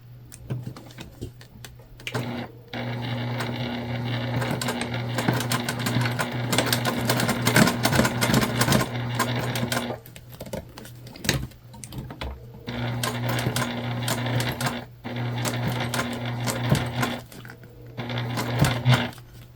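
A sewing machine top stitches a candy bag in several loud, close bursts of fast rhythmic stitching, broken by brief pauses and occasional clicks.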